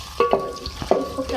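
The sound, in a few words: chopped onion frying in oil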